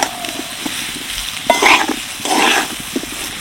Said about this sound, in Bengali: মুগ ডালটা দিয়েও একটুখানি কষিয়ে নেব, যাতে মুগ ডালের কাঁচা গন্ধটা চলে যায়।